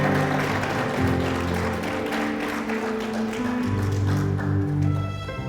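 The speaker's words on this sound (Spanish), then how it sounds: "Denle un aplauso al Señor por esa palabra." Church congregation applauding together, a dense, continuous clatter of many hands lasting several seconds, loud and unbroken, with no speech over it.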